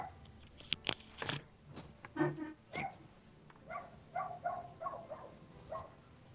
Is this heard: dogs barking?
yes